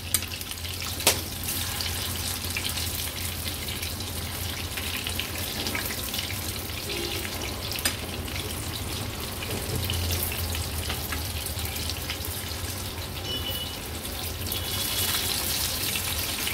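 Baby shrimp bhaji fry in oil over a low-to-medium flame, a continuous soft hiss and sizzle that holds steady for the whole stretch, with a couple of faint clicks and no talking.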